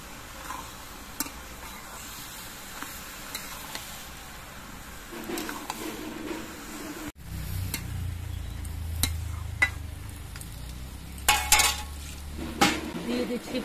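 Bottle gourd with salt and fish head gets stirred in a pan, with soft scraping and clinks of a spoon against metal that turn into louder sizzling and clattering partway through, no talking.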